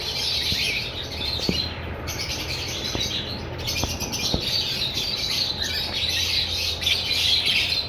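Green lovebird breeder pair chirping in a cage, rapid high tweets and squawks repeating close by with a few sharp clicks and faint wing movement.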